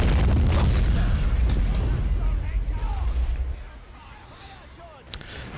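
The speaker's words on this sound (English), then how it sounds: "I'll do an artillery strike on that flag gun." Artillery strike explosions in the real-time strategy game Men of War: Assault Squad: loud, rumbling booms layered together, fading into quieter debris and a faint later pop, with a voice speaking over the barrage.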